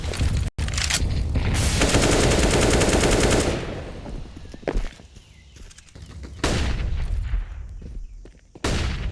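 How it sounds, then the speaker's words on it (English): Automatic rifle fire rattles in a Counter-Strike match on the Ancient map: a dense, loud burst of rapid shots, then several shorter, sharper volleys separated by brief lulls. "Bullets whizzing round from mid"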